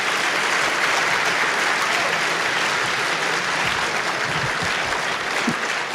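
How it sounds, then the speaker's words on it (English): A seated audience at a Minnesota Supreme Court oral argument session breaks into sustained applause, a dense, even roar of clapping that stays loud for the whole stretch. "Give them a big round of applause."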